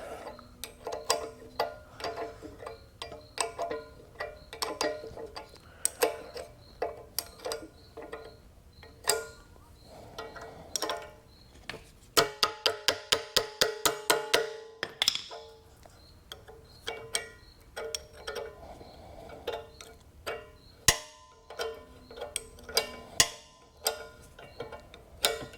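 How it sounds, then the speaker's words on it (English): A 3/8 ratchet tightens small nuts and set screws while reinstalling the blower on a Walker mower, giving bursts of rapid close-up clicking amid scattered metallic taps and handling clatter, with one especially dense run of ratcheting in the middle. "Take our 3/8 and tighten up our little nuts."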